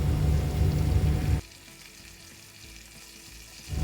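Loud sizzle of pork steak frying in a pan, then a sudden drop to a quieter crackle as garlic goes in, with the sizzling swelling again at the end; no talking.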